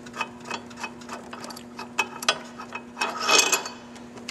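A bolt unscrewed from under Vision bicycle handlebars gives a run of short, close metallic clicks and ratcheting ticks, rising into a denser clattering burst near the end over a faint steady hum.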